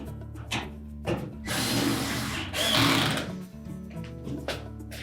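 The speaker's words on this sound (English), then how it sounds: "now we'll secure it with the screws up through the front panel into the main top" A power driver runs screws up through a dryer's front panel into the main top, with short whirring bursts and two longer buzzing drives, close and fairly quiet.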